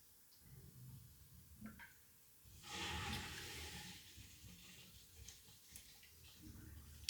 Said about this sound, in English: I can hear the water going through all the pipes.